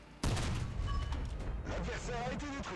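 A French tank's autoloading cannon in War Thunder booming through a rapid burst of shots, loud and close, each blast rolling into the next with mechanical clatter beneath.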